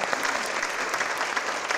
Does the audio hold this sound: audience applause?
yes